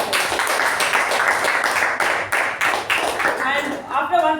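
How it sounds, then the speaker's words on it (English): A round of applause for the table topic master at a speaking club meeting: dense, continuous clapping from a roomful of people that thins out at the end, with some voices underneath. "please give a huge round of applause for the table topic master"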